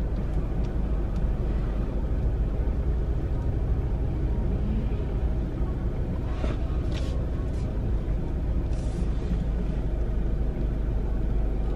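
A car engine idles and rumbles steadily at close range while reversing into a parking spot, a constant low drone with no voices heard over it.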